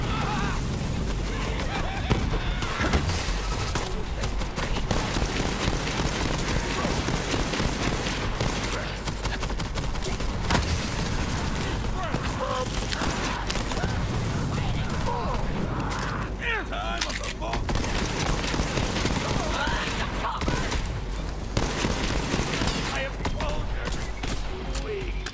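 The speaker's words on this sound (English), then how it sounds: "Like this Tommy gun." Tommy gun fire in Borderlands 3 combat, continuous bursts and rattling shots amid loud game action, with players talking over the gunfire throughout.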